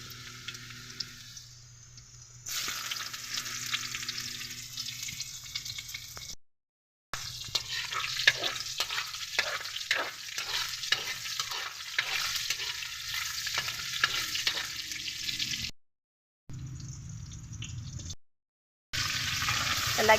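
Unpeeled garlic frying in oil in a pan for pork adobo, a steady sizzle broken by stirring and scraping strokes, with a few sudden gaps where the sound drops out.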